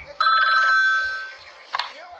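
A telephone bell rings in one sustained electronic trill lasting about a second, close and fairly loud, fading out before a short clatter, over soft intermittent low thumps.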